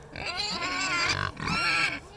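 Pastured farm pigs squeal and grunt up close, two long loud bursts of high squealing with a short gap between, no talk over them.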